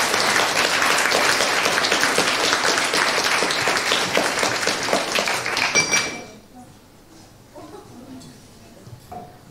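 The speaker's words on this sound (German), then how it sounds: "Applaus!" A Jugend hackt Hamburg 2023 audience applauds in a dense burst of clapping that stops abruptly after about six seconds, leaving a quiet room with faint scattered sounds.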